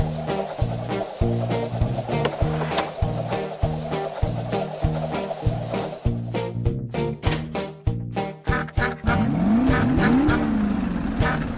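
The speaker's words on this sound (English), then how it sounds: "The engine." The engine of a cartoon school bus sputters through repeated choppy bursts, then catches and settles into a steady, loud run with squealing tones over it near the end.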